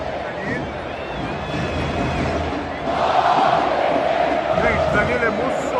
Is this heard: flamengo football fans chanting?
yes